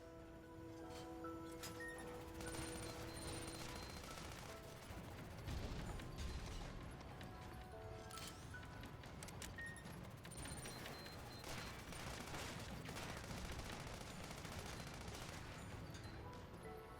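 A tank gun in the video game Sandland fires at a container, giving several sharp blasts that ring out one after another, fairly faint and set against steady game sounds and music.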